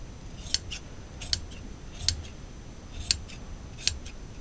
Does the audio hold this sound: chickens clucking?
no